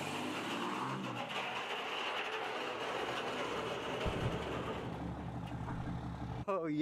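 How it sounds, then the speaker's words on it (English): A race car engine in the iRacing sim game plays at a low level as a sustained, rough mechanical roar, shifting pitch near the end with a brief sharp change. "I still can't get over how loud and wild this thing looks."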